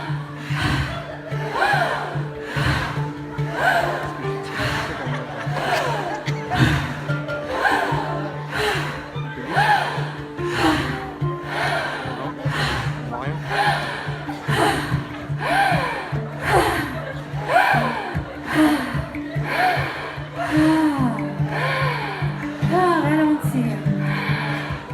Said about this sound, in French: Vous pouvez faire un petit son quand vous inspirez.